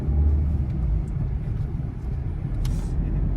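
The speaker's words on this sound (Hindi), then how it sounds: "गाड़ी चल गई।" A car moves off from standstill as the clutch is let out gently and light throttle is added, a steady low engine rumble holding throughout with a faint bit of road noise.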